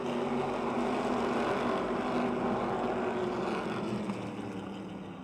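Modified race cars at full throttle on a night speedway oval, a dense, steady engine roar from the pack that holds loud throughout and eases slightly near the end.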